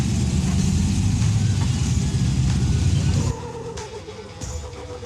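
A group of about 15 Jeeps on an off-road trail at Sand Hollow, with a loud, steady engine drone close by that suddenly drops to a quieter idle rumble with a few faint knocks, and no voices.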